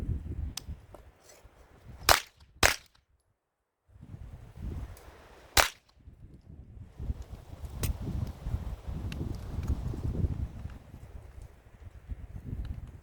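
A Smith & Wesson M&P FPC carbine fires at an outdoor range: three loud, sharp shots stand out, two close together and one a few seconds later, over steady wind and background noise.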